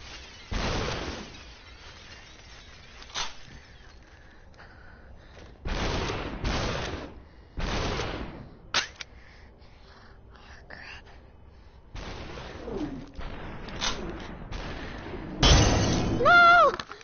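Video game gunfire comes in several loud bursts separated by pauses, with sharp cracks and a few crunchy, shattering impacts, and a brief tonal effect near the end.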